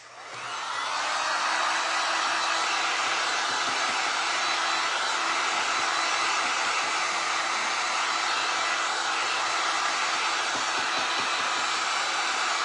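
A hair dryer runs continuously on glass and resin mermaid-scale art, a loud steady whoosh that starts abruptly and holds at an even level throughout.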